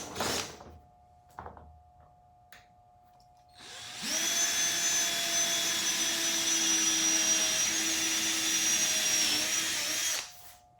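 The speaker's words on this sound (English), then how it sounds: "So I went ahead and drilled the holes where the mounting screws will go down to the firewall." A power drill boring mounting-screw holes through sheet metal for a dash panel in a 1988 NASCAR Winston Cup car, a sustained whining motor under load for several seconds after a few light taps, close and loud.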